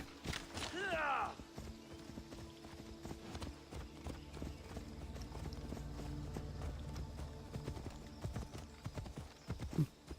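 Steady clip-clop of horse hooves at a walking pace in the video game Assassin's Creed Odyssey, with a brief whinny near the start and a low hum underneath.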